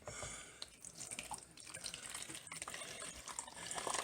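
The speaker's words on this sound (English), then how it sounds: "instead of filling up the cup and making a mess, I fill up a measuring cup" Tap water runs steadily into a measuring cup for a single-cup coffee maker, a faint, close splashing and trickling stream with no speech.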